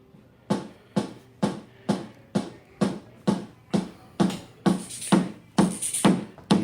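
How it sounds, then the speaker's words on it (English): Music plays through the Bluetooth speakers built into the back of a GT Racing gaming chair: an even, punchy beat of about a dozen strong hits, roughly two per second, getting brighter toward the end. "So let's play some music and see what she sounds like."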